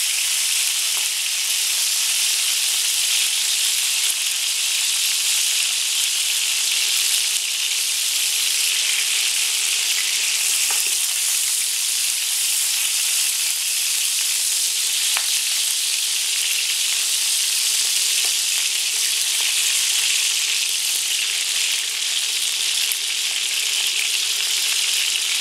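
Meat and onions frying for Greek stifado, a steady loud sizzle with crackling spatters in a hot pan, continuous and close throughout with no talking.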